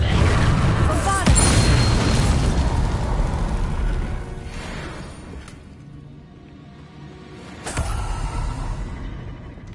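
A Bombarda explosion spell cast in Hogwarts Legacy on PS4: a sharp booming blast with rumbling, creaking debris that fades, followed by a second burst near the end.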